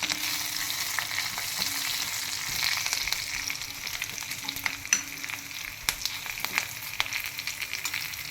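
Garlic and curry leaves fry in hot oil for a cauliflower masala, giving a steady, close sizzle with occasional sharp crackles and pops and a few stirring scrapes throughout.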